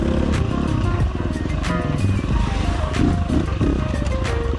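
A motorcycle engine running on a Tokyo Mods Vortex ECU map rumbles and revs up close, a loud throbbing exhaust note with rising and falling throttle blips.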